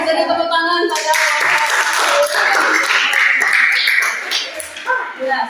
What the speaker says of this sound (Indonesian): Beri tepuk tangan pada